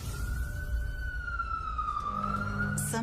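A single wailing ambulance siren slowly sweeps in pitch at moderate distance over a low rumbling background. No voices are heard.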